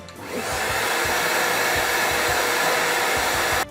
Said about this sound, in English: I take my blow dryer and just heat up the glue